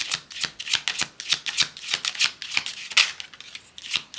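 Playing cards are shuffled and drawn in a rapid series of crisp, close riffling bursts and flicks, about a dozen quick snaps in an uneven rhythm with no voices.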